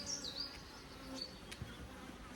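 Honey bees hum steadily at an open hive during a frame conversion from National to Langstroth, with a few individual bees whining past close by.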